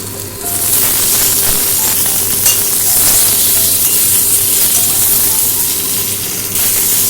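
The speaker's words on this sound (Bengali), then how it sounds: "পটলগুলোকে আমি ভালো করে ভেজে নিয়েছি। এবারে এর মধ্যে দিয়ে দেবো আলু।" Potatoes and pointed gourd (potol) frying in oil in a pan make a loud, close, continuous sizzle with a steady hiss and occasional stirring scrapes throughout, with no voices.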